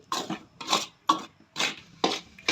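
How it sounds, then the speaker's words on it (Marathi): Bajra flour roasting in ghee in a pan, heard as repeated scraping strokes of a spatula against the pan, about five rhythmic rasping sweeps, close and fairly quiet. "पीठ भाजणं चालू आहे"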